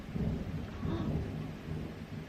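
Heavy rain falls steadily with deep rolling thunder rumbling underneath, a soft, low, continuous wash heard from indoors with no voices.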